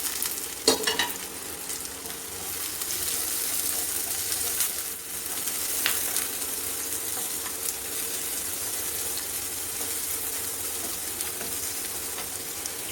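Onions, curry leaves and green chili fry in hot oil for a clam fry masala, giving a steady, close sizzle with a hissing crackle throughout and a few sharper pops and stirring scrapes near the start.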